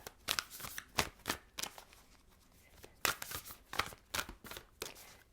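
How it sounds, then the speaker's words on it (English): A deck of tarot cards is shuffled close by in quick riffling bursts, each a crisp papery flutter, repeated several times at a soft level with no talking. "Two more shuffles."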